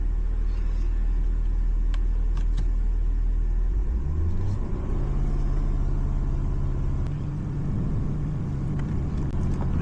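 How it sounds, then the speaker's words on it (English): A Ford Power Stroke diesel truck engine idles close by with a deep, steady rumble, then settles into a rising, smoother running drone after starting, with no talking. "so now I'm going to go ahead and start the vehicle"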